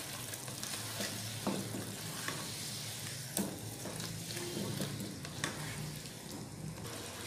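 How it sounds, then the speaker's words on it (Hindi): Chicken with spices and crushed green cardamom sizzles steadily in a pan, a continuous frying hiss with a few soft scraping stirs of a spoon breaking through at intervals. "अब इसे अच्छी तरह मिक्स कर लें"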